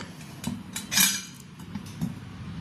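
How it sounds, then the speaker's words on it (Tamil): A small metal kadai taken from a gift box is handled, making a few light clinks and knocks of metal against metal, quiet and close, without speech. "இதுதான் அந்த கடாய். நல்ல சின்ன கடாய் தான்"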